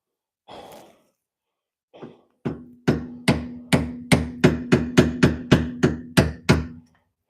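A breath or two, then about a dozen sharp hammer blows land in a steady, even rhythm on parts of a 1996 Mazda Miata during steering rack removal, each ringing briefly, close and loud.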